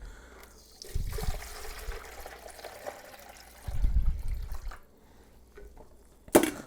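Water is poured into the reservoir of a drip coffee maker up to the ten-cup mark, heard as faint, close trickling in two short bursts against a quiet room.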